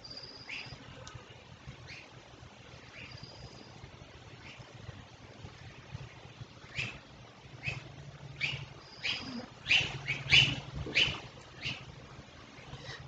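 A bird chirps in short, bright bursts close by, faint and scattered at first, then louder and more rapid toward the end, over a low steady background hum during work on a sculpture armature made with aluminium foil.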